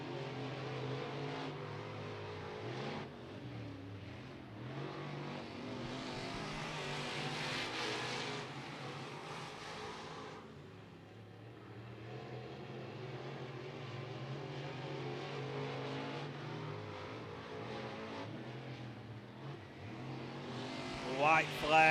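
Race cars in a local-class heat race at Beckley Motor Speedway, engines droning and revving steadily around the track throughout, with a commentator talking over the noise.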